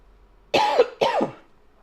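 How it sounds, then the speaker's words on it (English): Two short, harsh coughs in quick succession, close and fairly loud, against an otherwise quiet background. "Sorry for the cough there"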